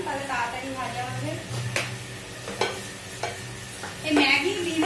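Chopped onion and green chili frying with a pinch of salt in a pan over medium heat, a low soft sizzle with occasional scraping stir strokes, under someone speaking.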